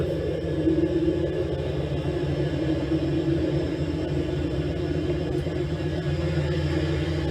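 A turbocharged 1968–1969 Pontiac GTO engine runs at a steady idle, giving a low, even rumble with a smooth hum on top and no change in pace.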